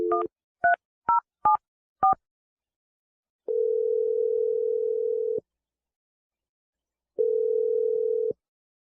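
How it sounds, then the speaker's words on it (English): A phone number is keyed in: five quick dual-pitched touch-tone beeps in a row, then two long steady tones separated by a pause, clean and close with no talking. "I'm about to dial the phone number right now"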